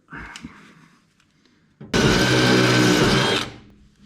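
A power drill whirs loudly and steadily for about a second and a half drilling holes, after some faint handling noises, then winds down.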